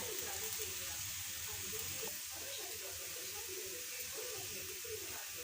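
Pumpkin dosa on a hot pan with oil poured around its edge, a faint, steady sizzle and crackle holding evenly throughout at low level.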